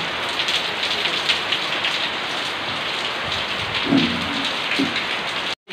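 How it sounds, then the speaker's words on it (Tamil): Steady rain falling in Karur, a loud continuous hiss of drops on surfaces close by, with a couple of brief low knocks partway through and no speech. "ஸோ கரூரில் மழை பெய்யுது"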